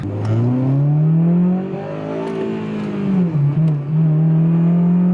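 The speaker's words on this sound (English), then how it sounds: "show her what this exhaust sounds like" A car engine with a deep, throaty Skunk2 Megapower RR aftermarket exhaust drones and rises in pitch as it accelerates, dips briefly, then settles into a steady growl.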